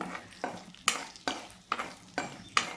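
Dried red chillies fry in a pan for a cabbage chutney, a low sizzle broken by five sharp stirring scrapes at roughly half-second intervals, with no voices.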